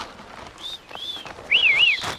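Sharp, bright whistles sounding outdoors, a few short rising and falling calls, the last one louder and warbling.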